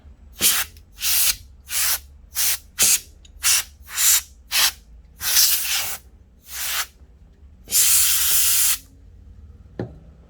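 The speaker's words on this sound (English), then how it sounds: "So I will use this air spray." A compressed air duster sprays in a series of short sharp hissing bursts, a few lasting longer, close and loud with brief pauses between, while cleaning an iPad during digitizer repair.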